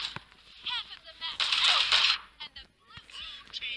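Sharp gunshot bursts crack from a shotgun in a local-network multiplayer video game, three or so in quick succession, mixed with other game effects.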